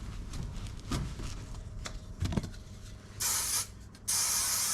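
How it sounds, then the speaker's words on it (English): Spray adhesive hisses from a can onto four-way stretch carpet during a Citroen Dispatch micro camper build, in two sustained bursts near the end after scattered handling knocks and rustles. "So we're going to spray the carpet as well"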